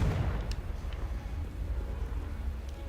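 A Confringo spell detonates in Hogwarts Legacy, a deep booming blast with rumbling low-end aftermath rolling on for a few seconds, fairly loud with little speech.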